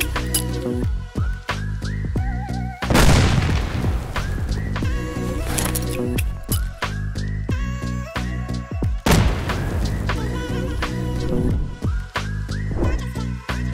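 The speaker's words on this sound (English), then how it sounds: "This mod adding the M67 Fragmentation hand grenade" Two heavy booming blasts, spaced several seconds apart, from M67 fragmentation hand grenades exploding in modded Fallout 4 gameplay, each rumbling over continuous background music.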